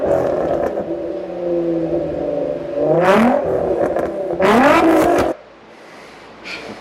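A Nissan car with a VQ engine revs its exhaust at close range, a droning idle that climbs through two loud throttle blips before cutting back to a quieter idle.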